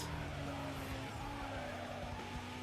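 Tires squeal and skid as a car takes a quick turn in the Need for Speed Most Wanted video game, a steady screech over a dense engine roar and game noise, fairly faint and continuous.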